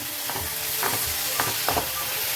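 Chopped garlic and ginger sautéing in a pan for a squid dish: a soft, steady sizzle with a few scraping stirs of a spoon at close range, and no voices.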